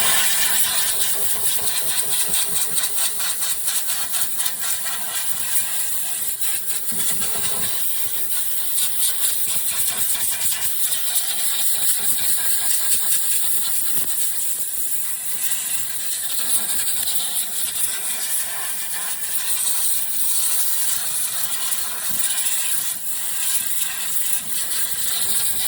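Compressed air blasting steadily onto an ATV tire on a Polaris Ranger, a loud, continuous harsh hiss held close for the whole stretch with slight flutter and no talk.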